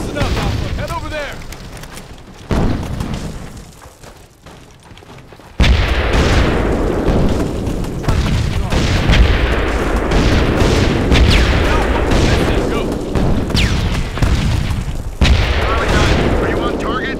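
Explosions from a mortar artillery strike in the video game Full Spectrum Warrior: a quieter stretch with game voices, then a sudden loud roar of booms and gunfire that keeps rumbling to the end.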